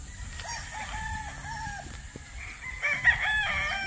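Gamefowl rooster on a game farm crowing repeatedly, with several drawn-out crows in sequence and another bird joining near the end, fairly close over a steady farmyard background with no talking.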